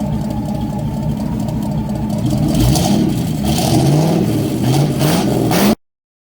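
A newly rebuilt Ford 428 V8 engine on its first start rumbles loudly and steadily up close, rising and falling as it revs several times, then cuts off abruptly into silence.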